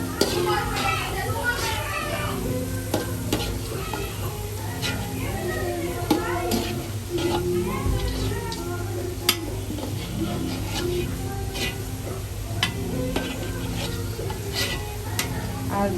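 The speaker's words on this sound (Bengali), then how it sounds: "এইগুলো হালকা করে ভেজে নিয়ে এখন" Food sizzling and being stirred in a pan while cooking at a picnic, a steady frying hiss with scraping stirs, under ongoing talk and children's voices nearby.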